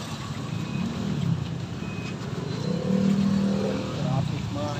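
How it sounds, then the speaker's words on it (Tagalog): Steady road traffic at a busy checkpoint in Angeles, with cars and buses idling and moving past in a continuous engine rumble and a faint beep, nearby, with no clear talk on top. "Traffic talaga"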